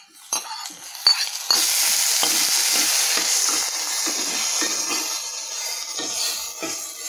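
Onions and tomatoes sautéing in a pan for a green peas masala curry, a steady sizzle after a few scrapes and clinks of a spoon against the pan, with intermittent stirring knocks over the continuous frying hiss.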